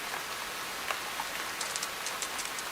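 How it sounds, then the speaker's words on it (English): Rain falls in the wet western part of Tasmania, a constant soft hiss with a scattering of individual drops pattering close by. "It rains here nearly every day."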